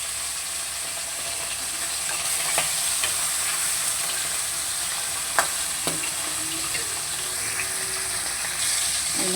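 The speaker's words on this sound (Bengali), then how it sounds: "বাকি মাছগুলো এবার ভেজে নেবো" Steady hiss and crackle of fish frying in hot oil, continuous throughout, with a few sharp clicks of a utensil scraping the pan.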